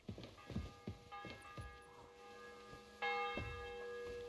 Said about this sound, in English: The bell's ringing for Hans the fifth time